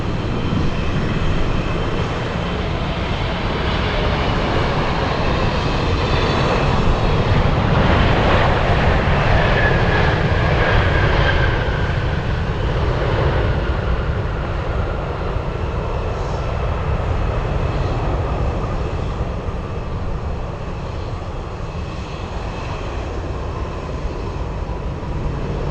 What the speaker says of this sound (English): China Southern, flying in from Shanghai, China, landing 1 hour late